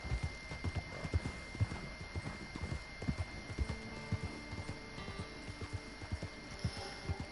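Horse hooves clip-clop steadily at a walking pace in the Red Dead Redemption Online video game, a tired, scrawny nag plodding along under a low ambient hum with no talk over it.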